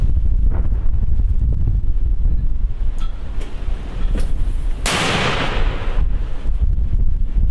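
Two heavy outdoor mortar blasts a second apart in Ukraine's Donetsk region, the second a loud broadband crack, over steady wind buffeting the microphone.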